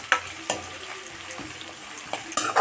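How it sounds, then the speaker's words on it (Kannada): Onion and tomato tempering frying in oil for lemon chitranna, giving a steady close sizzle broken by a few sharp clicks and scrapes of stirring. "ಇದನ್ನು ಚೆನ್ನಾಗಿ ನಾವು ಎಣ್ಣೆಯಲ್ಲಿ ಹುರಿಬೇಕು"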